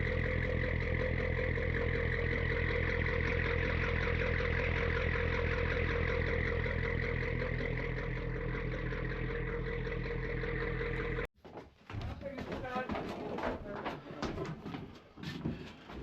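A Gardner diesel engine on a boat runs steadily on its maiden voyage after a blow out, a loud, continuous low throb with a dense, even rumble for about eleven seconds, then an abrupt cut to quieter, uneven noise and handling sounds.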